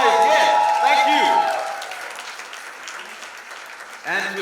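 An audience at a trailer launch for a Disney Plus Hotstar series applauds and cheers loudly for about a second and a half, then the clapping tapers off while a voice speaks over it and cheering resumes briefly at the end.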